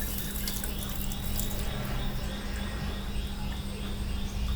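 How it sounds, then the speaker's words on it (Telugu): Steady running water as toor dal is rinsed, continuous and close with no talking. "ఇప్పుడు ఈ కందిపప్పుని బాగా వాష్ చేసుకొని ఆ వాటర్ తీసేసి పక్కన పెట్టుకోవాలి"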